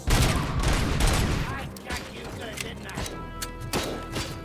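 Small arms gunfire in the video game Robocop Rogue City: a dense burst of overlapping shots up front, thinning into scattered single cracks and thuds over a loud, busy game mix.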